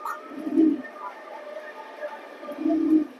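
Pigeons in a racing pigeon loft give two low, throaty coos, one near the start and one near the end, against a quiet background.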